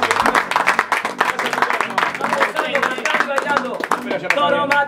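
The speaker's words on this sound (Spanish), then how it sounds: "Y ya lo despedimos a los muchachos con un fuerte aplauso de todos." Studio audience on a television variety programme claps for departing guests, a brisk, steady applause running under loud talk and music with sung voices.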